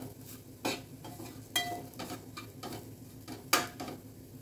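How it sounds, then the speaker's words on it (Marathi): Chili powder, black masala and salt are stirred into a modak filling for spicy amti, giving a spoon scraping and knocking against the pan in scattered close strokes, a few sharper clacks, no talk. "1 चमचा तिखट, थोडा काळा मसाला आणि चवीपुरतं मीठ, हे छान मिक्स करून घ्यायचंय।"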